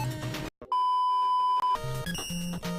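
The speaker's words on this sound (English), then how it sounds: "got a phone going off in the background over here" A phone goes off in the background with a steady electronic beep tone, cutting in over chiptune game music from Mega Man 5 with its bouncing melody and short blips.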